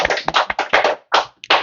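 Applause from a church congregation, a burst of dense clapping with an uneven rhythm, close and fairly loud, broken by brief pauses near the end.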